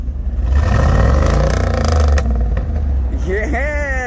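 Car engine revving with the muffler and tailpipes cut off: a loud, rough, open-exhaust roar swells and holds, then drops away, with a voice talking near the end.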